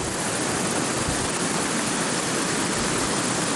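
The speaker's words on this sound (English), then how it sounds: "If you can hear me over the water, this is the beginning of Wallupt Creek Falls." Wallupt Creek Falls, a rushing creek waterfall, roars as a loud, steady broadband wash of falling water, close and constant throughout with no talk.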